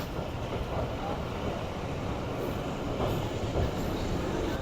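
The Jaffer Express rolling at speed behind a Chinese ZCU 20 locomotive, heard from inside a passenger coach: a continuous rumbling rush of wheels on rail with faint rhythmic clacks and occasional squeals, steady and loud throughout.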